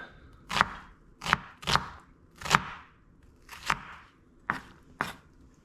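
Knife chops through a vegetable on a chopping board, seven sharp, distinct cuts at an uneven pace, close and fairly quiet, with no talking.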